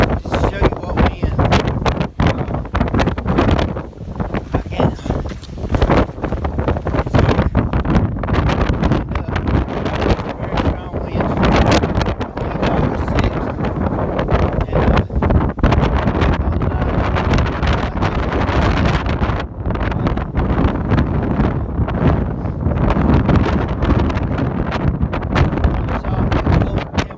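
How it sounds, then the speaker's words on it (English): Extreme high wind on an exposed stretch of the Appalachian Trail pounds the microphone with loud, continuous roaring and buffeting gusts that never let up, with a hiker's voice partly buried beneath it. "This high wind's crazy."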